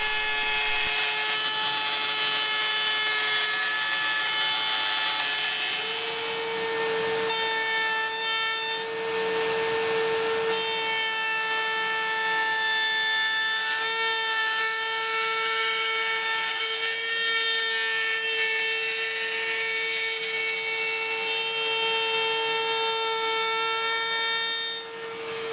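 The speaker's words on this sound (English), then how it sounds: "clamp it into another jig and route it to its final dimension" Router trimming a wooden camping chair part clamped in a jig, a steady loud whine with stable tones running continuously for about 25 seconds without a break.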